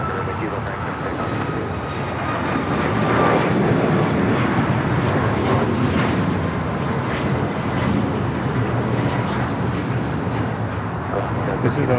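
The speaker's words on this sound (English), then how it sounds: "This is Alaska Airlines 1397 going to Portland, Oregon on a 737 MAX 9." An Alaska Airlines Boeing 737 MAX 9 passes at Los Angeles International Airport, a steady, loud jet roar holding for the whole stretch with faint radio chatter underneath.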